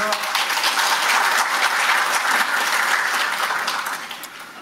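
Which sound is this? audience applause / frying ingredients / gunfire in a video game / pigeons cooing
audience applause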